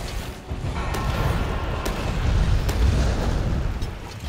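A rumbling explosion in the video game Monster Hunter World Iceborne, a broad heavy roar that swells and holds for several seconds, loud and close, with no talk over it.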